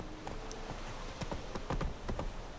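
Hooves of the horse Roach clip-clopping at a trot in The Witcher 3, a steady rhythm of close, distinct beats over a dense game ambience, with no talk.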